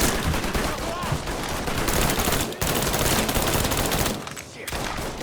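Rapid bursts of gunfire in the Mafia III video game, loud and dense, with near-continuous shots and fusillades filling most of the stretch before briefly thinning near the end.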